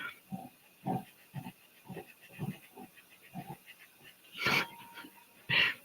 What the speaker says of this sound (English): Can you hear the dog chewing on his bone?